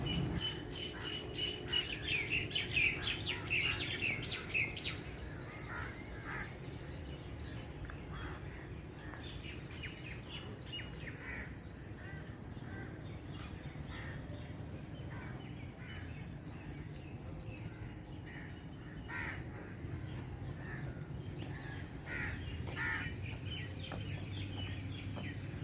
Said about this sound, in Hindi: जैसे जैसे शाम होती जाती है ये चिड़ियों की आवाज़ें, परिंदों की आवाज़ें और ऊंची होती जाती हैं।